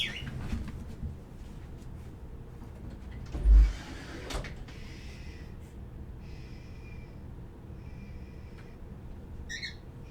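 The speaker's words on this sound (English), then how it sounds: "That was definitely a frustrated, potentially I need something tweet." A pet bird gives a few short, high, frustrated tweets in a quiet room. The chirps come in small clusters and are fairly faint against a low background hum, with one soft thump near the start.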